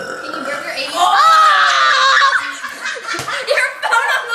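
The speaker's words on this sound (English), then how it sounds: "Burping contest." A loud, drawn-out burp in a burping contest, rising and falling over a few seconds, followed by laughter and chatter from nearby people.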